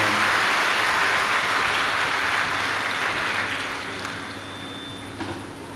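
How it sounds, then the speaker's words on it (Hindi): A large audience at a Shiv Mahapuran katha religious gathering clapping loudly in welcome, a dense sustained roar of applause that gradually fades toward the end. "एक बार जोरदार ताली बजाकर इनका स्वागत करना।"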